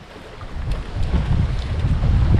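Strong wind gusting through an outdoor forest, a steady rumbling roar buffeting the microphone and building louder toward the end, with no voices.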